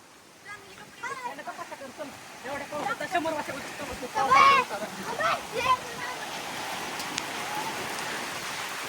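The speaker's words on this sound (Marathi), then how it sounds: "आज अखेरच पाऊस आला" Monsoon rain pours steadily over a home garden, a dense, continuous hiss that grows after the first second, with people talking throughout.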